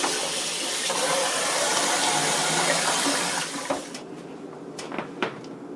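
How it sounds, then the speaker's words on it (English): Cold tap water gushes steadily over boiled noodles being rinsed for a stir-fried noodle dish, then cuts off, leaving a few light clatters and drips. "Give these noodles a quick rinse under cold water to stop the cooking"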